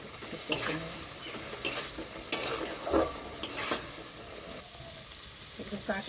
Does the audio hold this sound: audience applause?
no